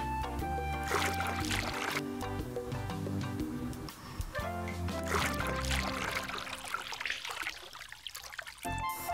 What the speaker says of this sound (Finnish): Nyt lisätään korkilla vähän vettä.